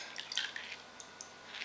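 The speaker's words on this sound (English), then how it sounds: "Pour off the muddy water" Muddy water sloshes and trickles as it is poured off a gold paydirt pan, a soft, close, brief splashing with faint drips.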